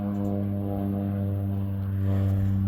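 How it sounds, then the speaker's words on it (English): Crop-spraying propeller plane flying over a mustard field, a loud steady engine drone with strong low harmonic hum, growing slightly louder toward the end, no talk. "we're getting our mustard sprayed by a plane"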